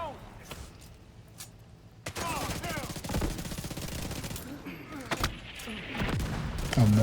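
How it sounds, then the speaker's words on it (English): Mortar fire in a video game battle: repeated heavy thumps and crackling gunfire break out after a quieter opening, with bursts of automatic fire mixed in and a voice talking underneath. "Oh, mortars."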